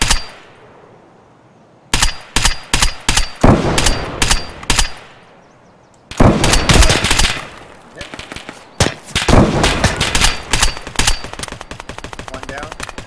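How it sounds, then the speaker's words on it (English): Gunfire in the video game Escape from Tarkov, set in the Woods map: loud bursts of rapid automatic shots in several volleys, separated by short quiet gaps. "Were you shooting the guy on the hill, running left?"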